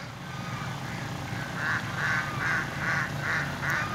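Ducks at a pond quack in a quick regular series of nasal calls, fairly close and moderately loud, over a steady low outdoor rumble.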